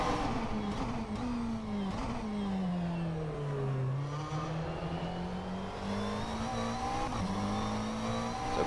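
A GT3 race car in the sim racing game rFactor 2 holds a steady, loud engine drone throughout, pitch dipping as it lifts through a corner and then climbing again on the throttle, with faint tire scrub underneath and no talking.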